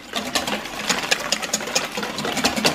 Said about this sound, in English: Whisk it really good at this point.